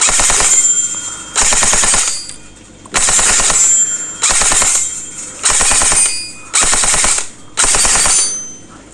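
Bursts of rapid fire come from an electric gel blaster M4 CQB, loud and close. Seven full-auto strings of roughly half a second to a second each are separated by short pauses.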